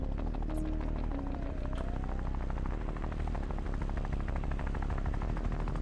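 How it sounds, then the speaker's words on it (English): Helicopter flying outside in the video game Thief Simulator 2, a continuous loud rotor drone and buzz filling the scene without a break. "There's a helicopter outside."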